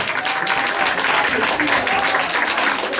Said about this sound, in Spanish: Aplausos fuerte, fuerte los aplausos.